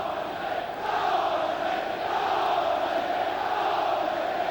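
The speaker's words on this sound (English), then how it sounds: "the crowd on this side are showing displeasure because the linesman didn't signal it" Football crowd at a Chelsea match, fans on one side of the ground voicing displeasure at the linesman, a steady loud roar of massed voices that swells slightly after the first second and holds.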